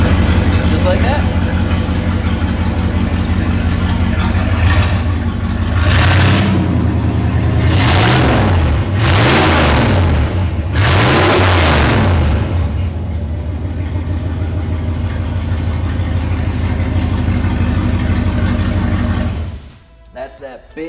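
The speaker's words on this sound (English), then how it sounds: "That's that big block American V8. Can't beat that sound." A big block American V8 in a classic truck idles loudly up close, then is revved four times in quick swelling blips before it settles back to a rumbling idle and shuts off near the end.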